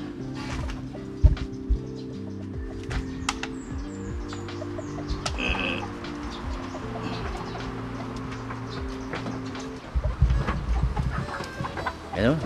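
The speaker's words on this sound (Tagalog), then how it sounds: "Ito si native saka si Australorp, bibigyan natin sila ng pagkain" Native and Australorp chickens clucking and cooing steadily while being fed, a close, continuous flock chorus, with rustling and a louder clatter of feed near the end.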